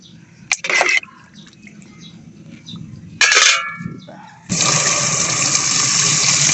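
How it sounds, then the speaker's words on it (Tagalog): Water gushes into a cooking pot for papaitan soup, a loud steady splashing pour that starts abruptly and keeps running, after earlier metallic clangs and shorter splashes. "Lagyan natin ng tubig mula sa Pasig River."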